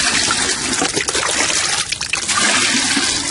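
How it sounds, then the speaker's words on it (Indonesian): Organic tomato plants in a home yard are watered with a watering can, a continuous close splashing trickle of water onto soil and leaves, briefly thinning and gushing again. "Kita bisa menggunakan gembor atau langsung menyiram."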